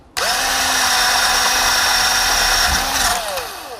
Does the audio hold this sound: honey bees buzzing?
no